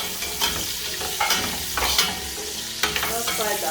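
Garlic, onion and salmon fry in a pan with a continuous close sizzle, punctuated by scraping stirs and brief louder hisses as the food is moved about.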